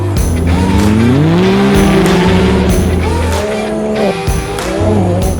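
Premier UTV classes, including Pro Turbo race vehicles, roar through a desert race at Parker, engines revving loud and close with rising and falling pitch as machines accelerate and pass in sustained overlapping noise.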